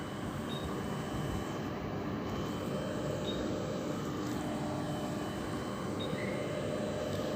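An old Queensland Rail train departs Gympie North with a steady, continuous rumble and broadband roar that holds level throughout, with faint brief tones above it and no talking.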